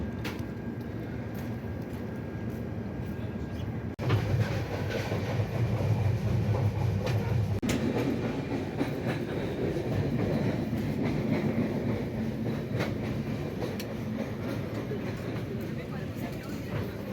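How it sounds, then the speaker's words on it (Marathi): A passenger train pulls out of Chiplun station and runs on the rails, a steady rolling rumble with rhythmic wheel clatter that grows louder partway through and continues throughout. "फायनली ट्रेन निघाली"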